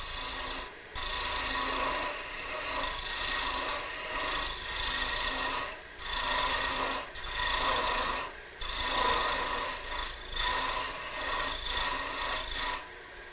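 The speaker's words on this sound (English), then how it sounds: "as long as you're cutting with a sharp tool, it cuts very fast and cuts very clean" A lathe cutter head shaves wood in steady rasping bursts, loud and close, with brief pauses between passes and no talking.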